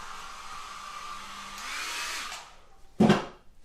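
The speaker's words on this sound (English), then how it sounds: "That was a hairdryer on the floor." A hair dryer lying on the floor is briefly switched on by accident, a steady whining blow that swells and cuts off, followed by a short thump.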